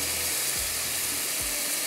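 Continuous close sizzling of a pan of methi frying, with two soft thuds as mutton and onions are dropped in, no talking.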